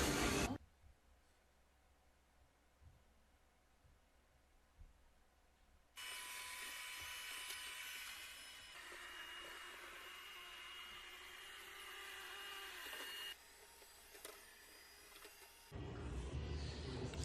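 A robot vacuum runs a combined mopping and vacuuming cycle, giving a steady close mechanical whir and hum that steps up in intensity partway through and shifts in tone as it works, with no talking.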